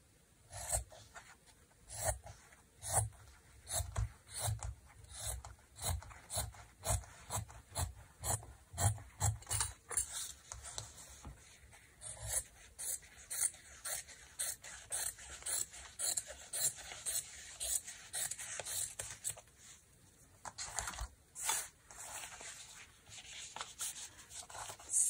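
Scissors trimming a large paper envelope for a junk journal cover, heard as a quick run of close, crisp snips and paper rustles that slows and thins toward the end, with no talking.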